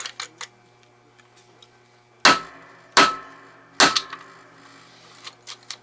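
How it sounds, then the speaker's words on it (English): A kinetic bullet puller hammered down repeatedly to pull a 30 M1 Carbine bullet: three hard, close knocks about a second apart, with lighter taps and handling clicks before and after. "I'm going to pop that in the collet and put that in the kinetic bullet puller."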